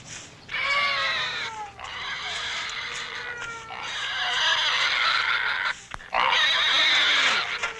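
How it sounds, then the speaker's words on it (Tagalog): Pigs grunt and squeal loudly at close range in long, strained bursts during feeding, separated by brief pauses. "Pakanin mo na yung baboy!"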